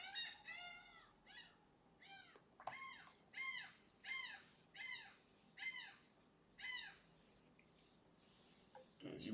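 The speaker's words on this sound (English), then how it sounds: "As you probably hear the birds, seagulls in the background." Seagulls at a baseball game between the Braves and Mets give a repeated series of faint, evenly spaced mewing calls, about a dozen, from a distance.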